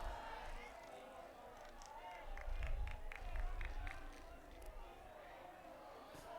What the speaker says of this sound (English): And you can hear the Trojan student section chanting